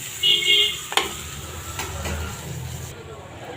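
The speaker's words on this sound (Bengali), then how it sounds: "মচমচ করে ভাজা হতে থাক" Shrimp crisp up in hot oil with a soft sizzle under stirring, a utensil clacks once against the pan, and the sound stays close and moderate throughout.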